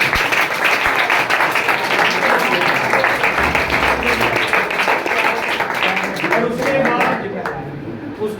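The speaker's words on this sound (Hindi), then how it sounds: "सर के लिए तालियां हो जाए" Loud, dense applause from an audience honoring a teacher at a science academy writing competition, steady clapping throughout that thins and fades near the end.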